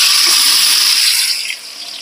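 Chopped large onions, about 300 grams, drop into hot oil for a duck curry biryani and set off a loud, bright sizzle that fades and settles over two seconds.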